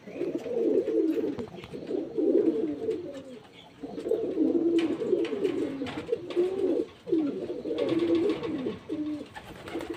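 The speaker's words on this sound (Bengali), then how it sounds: "এই যে নামছে পায়রাগুলো" Pigeons being fed coo repeatedly in soft, throaty bursts, several birds close by, with brief pauses and faint wing or movement noises as they come down one by one.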